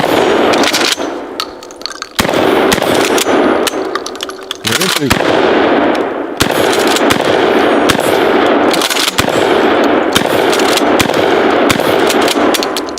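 DP-12 pump shotgun fired outdoors at a target 50 yards away: loud, close blasts in rapid, closely spaced bursts with metallic clanks between them, and a voice partly underneath.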